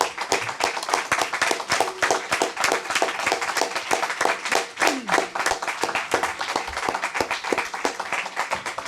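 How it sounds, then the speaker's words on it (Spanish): An audience applauds a doctor after her talk on metastasis, with close, distinct individual claps forming an irregular steady patter that continues for several seconds. "vamos a darle un aplauso a la doctora"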